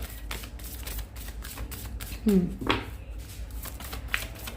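Tarot cards are shuffled in short riffling bursts at close range, with a brief flutter and snaps of card stock during a reading.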